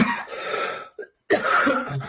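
A person has a coughing fit, a run of harsh, close coughs that break off into a brief silence before the hacking resumes.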